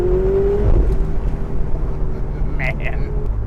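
Ferrari 488 Spyder accelerating on throttle, a steady engine drone with a rising tone early on, heard from inside the car with wind and road noise throughout and a few brief higher whines near the end.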